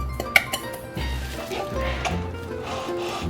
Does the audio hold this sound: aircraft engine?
no